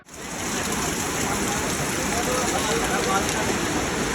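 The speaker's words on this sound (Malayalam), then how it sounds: "നല്ല മഴയാണ്." Heavy, unbroken rain after two days of downpour at the Mapusa Friday market in Goa, a loud, even hiss of water pouring down that holds steady throughout.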